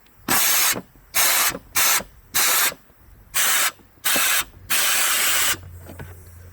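A garden hose is pushed into a car's plugged sunroof drain, producing about seven loud close bursts of rushing, spraying water separated by short pauses. The last burst is longer, then it fades into a low hum.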